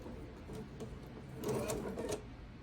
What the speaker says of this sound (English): I'm going to go ahead and I'm going to sew this one